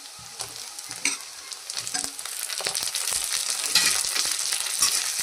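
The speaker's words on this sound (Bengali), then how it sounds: "এবার আমি দিয়ে দিচ্ছি টমেটো কুচিগুলো।" Chopped tomatoes sizzle in a pan, a close steady hiss with spatula scrapes and taps, growing louder as it goes.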